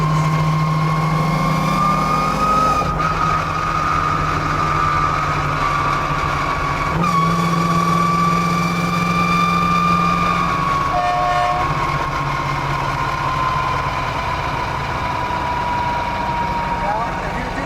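The Batman Tumbler vehicle's engine running with a loud, steady drone and tonal whine, shifting slightly in pitch a few times, while a voice talks over it.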